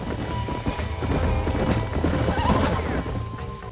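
Horses in the Red Dead Redemption video game whinny and neigh over a steady clip-clop of hooves on ground, loud and close, filling the short stretch with lively ranch sounds.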